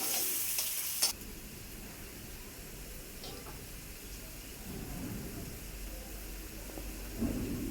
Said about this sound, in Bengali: পেঁয়াজ কুচি দিয়ে দেব, ভালোভাবে লাল লাল করে ভেজে নেব।